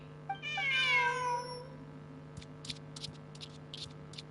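A cat in a video game gives one clear, rising and falling meow up close, followed by a series of short, soft clicks over a low steady hum.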